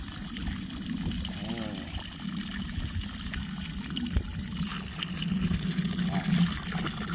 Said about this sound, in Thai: นี่เราก็ได้น้ำแล้วนะครับ ผมจากปั๊มตัวนี้ โดยใช้แผงแค่ 100วัตต์นะครับผม